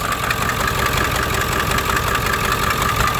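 A large vehicle engine, likened to a school bus, idles loudly up close with its hood open, a dense steady rumble with a faint knocking texture and no talk.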